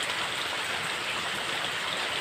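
Steady, dense rain pouring down outdoors, a continuous close hiss of falling water with no pauses and no voices.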